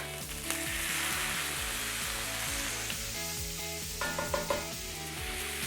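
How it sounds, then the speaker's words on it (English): Steak, vegetables and chorizo sizzle steadily together in a hot pan for Mexican tacos de alambre, a continuous close frying hiss under background music. "We're gonna add the steak,"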